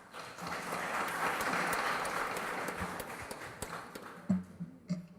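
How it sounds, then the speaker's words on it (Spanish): Faint, distant applause from the audience at a formal judicial plenary session, a steady wash of clapping that thins into a few scattered claps before stopping. "a quien le brindamos un fuerte aplauso"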